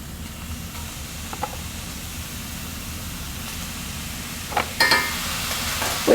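Ground hamburger meat browning in a pan gives a soft, steady sizzle and hiss at low level, broken near the end by a few brief scrapes and clatters of stirring.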